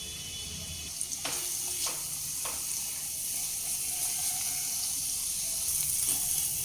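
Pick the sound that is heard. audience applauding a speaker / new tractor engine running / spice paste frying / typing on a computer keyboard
spice paste frying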